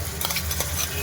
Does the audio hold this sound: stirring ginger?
yes